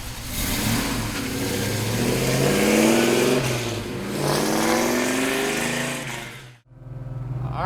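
A 1969 Chevrolet Camaro engine revs hard with rising and falling pitch, loud and close, then cuts off abruptly before a final roar.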